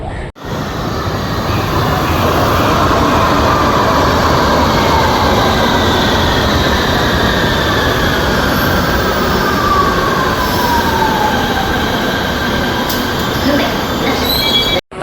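A Mumbai Aqua Line metro train running underground, with a loud continuous rumble and rising wheel squeal carried close and steady throughout, with no talking over it.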